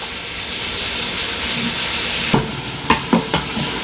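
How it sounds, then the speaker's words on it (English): Onions sautéing in an Instant Pot, a steady sizzle with a few sharp stirring clicks and scrapes near the end, close and alone. "Now we're going to just saute the onions down until they turn translucent."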